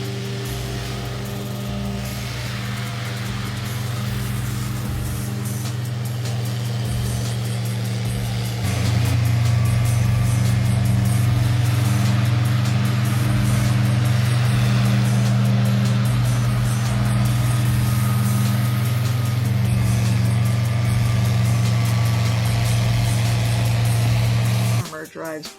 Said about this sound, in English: This is a giant windrower used to cut the hay